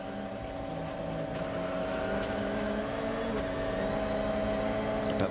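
Steady helicopter rotor and engine drone heard from aerial filming of a rally stage, a continuous loud mechanical hum with tonal bands throughout, no voices.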